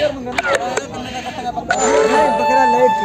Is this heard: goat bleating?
yes